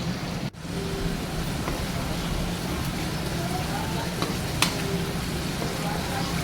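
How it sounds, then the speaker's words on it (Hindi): Masala for a kofta curry frying steadily in a pan, a continuous soft sizzle with occasional stirring clicks, close and moderately loud with no talking. "जब तक मसाला भून रहा है"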